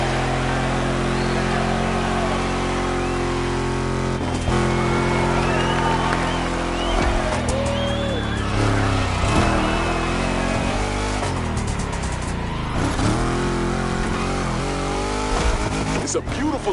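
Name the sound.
car engines revving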